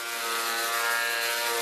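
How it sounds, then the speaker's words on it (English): A planer feeding glued cutting-board strips gives off a steady, high-pitched mechanical whine with a faint buzzing rattle, holding evenly at moderate volume. "I'm going to take them out of clamps and send them through the planer."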